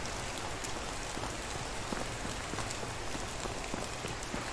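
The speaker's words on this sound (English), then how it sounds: "You're the one standing in the rain." Steady rain falls in the Medieval Dynasty video game, a constant close hiss of drops striking surfaces, with no voices over it.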